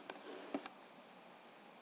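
A few sharp, close mouse clicks on the play option in the Rust game menu, spaced apart over a faint steady background hiss.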